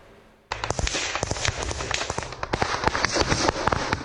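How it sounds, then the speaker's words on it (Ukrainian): After a quiet start, a sudden burst of rapid, dense cracks and bangs like gunfire and explosions, continuing loudly and irregularly. "Вибухи та постріли"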